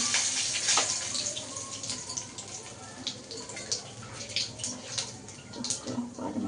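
Water being poured into a cooking pan, a soft splashing, gurgling stream with light drips, fairly faint and steady throughout.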